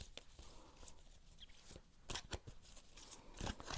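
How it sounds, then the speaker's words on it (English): Soft riffling and flicking of playing cards being shuffled, with quick papery bursts and a faint room hum, close and fairly quiet. "so I'll shuffle the cards"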